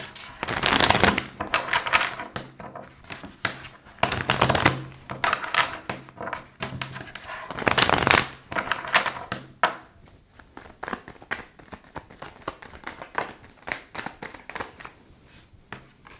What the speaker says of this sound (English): Let's pull some tarot cards as well.